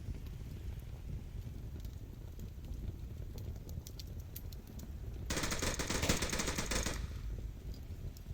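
Faint, distant rifle gunfire from the Onward VR shooter game erupts in a rapid burst of shots after several seconds of low background rumble, with a few scattered single cracks before it.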